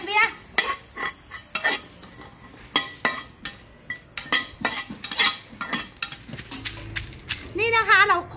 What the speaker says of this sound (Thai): ต่อมาคั่วต่อหอมกระเทียม